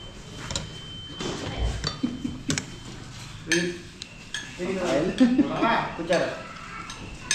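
Plates and dishes clink and clatter repeatedly at close range, with scattered knocks and scrapes, while people talk nearby in Filipino.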